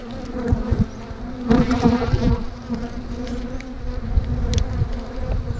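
Honey bees buzz around an opened hive during an inspection, a dense, steady close-up hum with individual bees droning past, no talk over it.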